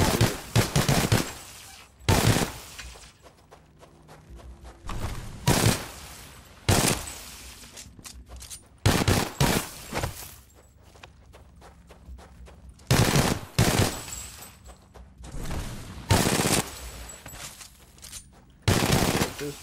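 A machine pistol fires in rapid bursts in Titanfall 2, loud, close staccato volleys separated by short pauses, repeating about a dozen times.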